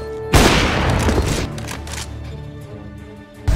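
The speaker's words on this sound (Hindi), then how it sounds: "वो बहुत सही शॉट था डीके" Gunfire in the video game Counter-Strike: Global Offensive: a loud, sharp shot opens a dense crackling burst of firing that fades over a few seconds, then another loud shot lands at the end, with no talk.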